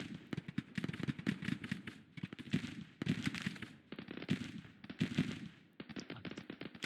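Battlefield gunfire in the Grand Tactician Civil War strategy game at night, ragged volleys of musket shots popping in quick clusters, with short lulls between bursts and a fairly distant, layered quality.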